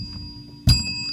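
A bright notification bell chimes once, a sharp ding with a ringing tail, as a sound effect in a podcast.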